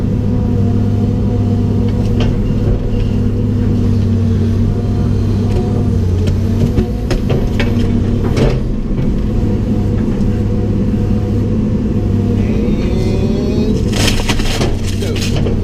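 Stump splitter machine running to split firewood, its engine humming loud and steady while wood cracks and splits in sharp bursts, with people talking over it.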